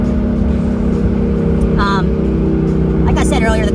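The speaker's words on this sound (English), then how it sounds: "I'm loving the exhaust." A 2017 Ford Mustang GT 5.0L Fastback's steady, deep engine rumble fills the clip, with a loud exhaust drone holding throughout and brief higher tones rising near the end.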